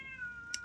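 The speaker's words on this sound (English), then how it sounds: "I don't know if you can hear those cats fighting outside" Cats fighting outside, heard as a short strained yowl with a couple of sharp higher cries near the end, faint and distant.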